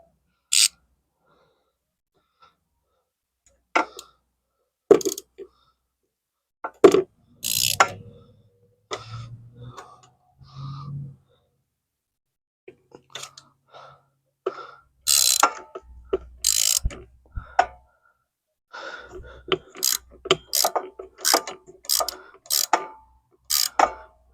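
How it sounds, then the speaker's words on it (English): Ratchet wrench tightening two nuts together, heard as scattered short bursts of clicking at close range with long quiet gaps between them. "So we'll just tighten these two nuts together."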